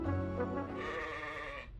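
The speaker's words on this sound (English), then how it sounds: "Thankful goat noises." A goat in the video game CrossCode lets out a single wavering bleat, close and clear, lasting under two seconds.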